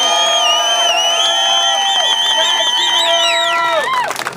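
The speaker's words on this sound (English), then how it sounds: "One more round of applause for these two great" A crowd at a labor rally cheers loudly with whoops and sustained shouting voices rising and falling together, close and energetic before breaking up at the end.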